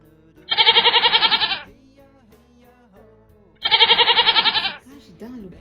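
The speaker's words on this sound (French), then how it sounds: "C'est une chèvre." A goat bleats twice, each call a loud, wavering, nasal bleat lasting about a second with a gap of a couple of seconds between them, close and clear with quiet background.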